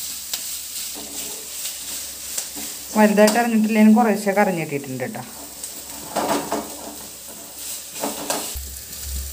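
Onion and taro leaves stir-fry in a pan with a soft crackle and the scrape of a spoon, while someone talks over it.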